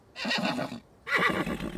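A horse neighs in an adult cartoon, two loud, close whinnies separated by a brief pause, with no voices over them.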